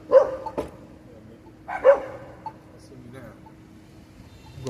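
Dog barking in a couple of short, gruff woofs spaced a second or two apart, at moderate distance with some rustling between them.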